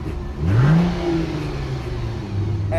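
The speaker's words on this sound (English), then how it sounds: "Here's what the Prowler exhaust sounds like." A Plymouth Prowler's exhaust revs once and settles back to a steady idle, the engine note swelling quickly before falling, close by with no talking.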